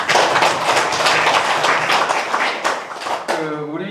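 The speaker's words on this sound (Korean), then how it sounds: "박수 한번 치고 시작하겠습니다" Applause from a lecture audience at a Gyeongnam Confucian college class, dense and steady for about three seconds before trailing off, with a voice speaking as the clapping ends.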